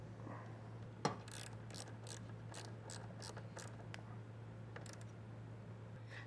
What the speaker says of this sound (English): Now we'll reinstall the nut.